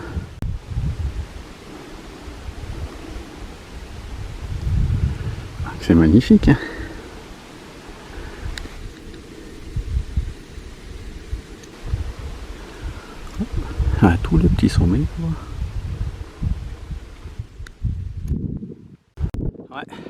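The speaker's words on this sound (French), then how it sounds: "Ouais, il y a du vent." Gusty wind buffets the microphone beside a mountain lake near the Italian border, a broad rumbling roar that rises and falls under French conversation throughout.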